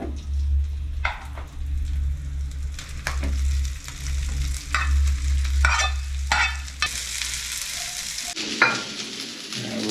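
Garlic fried rice stir-fried in a pan, a steady sizzle and frying hiss with repeated scraping stirs throughout, close and continuous, with no talking.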